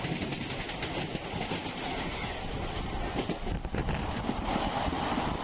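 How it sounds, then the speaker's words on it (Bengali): A Howrah local train on the Kharagpur line rumbles past close by, a dense continuous roar of wheels and carriages with rhythmic rail clatter and wind buffeting, filling the whole stretch without voices. "আবার একটা হাওড়া লোকাল"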